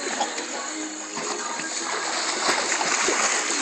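A bulldog splashes steadily as she walks upright on her hind legs through water while playing, a continuous near, moderately loud splatter and slosh with no break.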